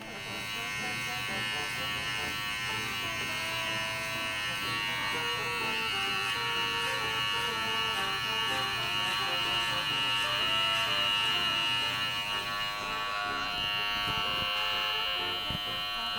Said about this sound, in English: These clippers have a total of 4 clicks, so 4 is all the way open.